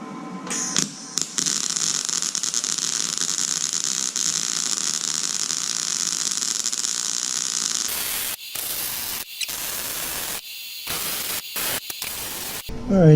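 A Power Mig 210 MIG welder crackles and hisses in a long continuous bead while building a cart for an air compressor, then gives several shorter bursts of buzzing with brief silences between.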